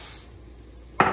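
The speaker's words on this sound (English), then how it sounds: "you immediately want to start stir frying it" A brief burst of sizzling is heard as white rice hits hot oil in a pan and is stir-fried, loud and sudden after a quiet moment.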